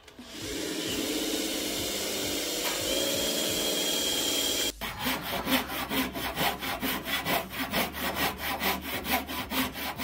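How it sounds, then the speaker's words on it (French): Wood milling on a spinning-wheel frame in a Madagascar workshop: a steady high whine of the cutter gives way to a rapid, rhythmic rasping cut, loud and close, with no talk. "il réalise ce qu'on appelle le fraisage"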